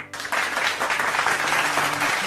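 Applause for Nigerian filmmaker Kemi Adetiba, a sudden burst of dense, continuous clapping that starts sharply and holds steady and fairly loud, with no talking on top.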